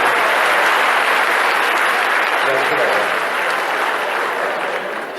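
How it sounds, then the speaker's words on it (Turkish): A concert audience at Bostancı Gösteri Merkezi bursts into dense, sustained applause that fills the hall and fades slightly toward the end, with a voice briefly speaking over it. "Alkışlar."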